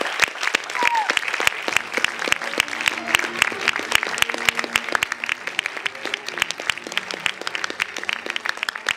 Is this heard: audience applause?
yes